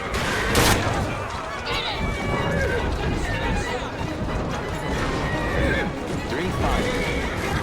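A horse in the Assassin's Creed Syndicate video game, set in London, whinnies loudly near the start, with hoofbeats, carriage noise and distant gunfire following and a voice talking over the scene.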